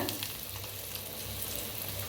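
Red chilli powder and finely crushed garlic sizzle in hot oil for a dill greens dish, a loud, steady, close frying hiss with no talk.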